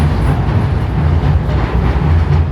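A London Underground train on the Heathrow route rumbles loudly and steadily close by, its wheels giving a faint clattering rhythm under a continuous heavy roar with no voices.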